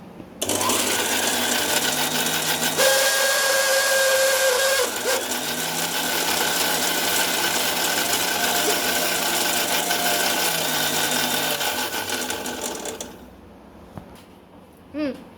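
An electric mixer grinding soaked dates runs loud and close with a steady grinding whine for about thirteen seconds, changing pitch as it works, then stops.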